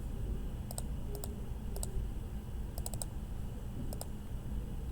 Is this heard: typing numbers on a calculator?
yes